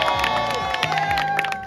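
A crowd applauds and cheers at a mock medal ceremony, a short, continuous wash of clapping and shouts with some whistle-like tones mixed in.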